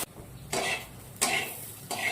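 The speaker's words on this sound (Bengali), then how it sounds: "এইগুলো দিয়ে একটা ভাজা করে নিচ্ছি" Vegetables fry in a wok, with three short, quiet bursts of sizzling and stirring separated by brief near-silent pauses.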